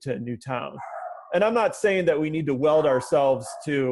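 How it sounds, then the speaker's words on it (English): A dog barks repeatedly in short, loud bursts that alternate with someone talking, the barks sounding close and sharp among the gaps in his speech. "sorry, that's my dog."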